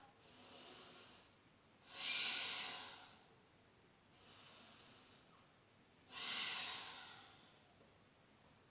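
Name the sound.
breathing in and out during yoga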